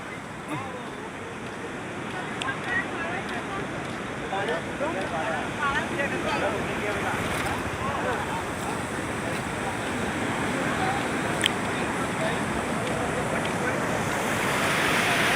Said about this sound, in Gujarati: જો દેખાય છે પાણીના ગળકા ચાલુ ફટાફટ ના ચાલુ